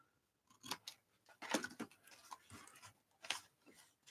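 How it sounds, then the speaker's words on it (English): Scissors snip through paper while cutting pieces for a mixed-media art journal, a few quick close cuts in separate bursts with soft rustling between them. "let's snip it"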